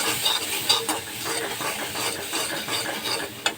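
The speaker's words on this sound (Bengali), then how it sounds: "এখানে একটু আলু ভাজি করতেছি" Potatoes frying in a pan for a home-cooked meal, a soft sizzle under repeated scraping and stirring strokes of a spatula, close and moderately loud with a couple of sharper clinks, no voices.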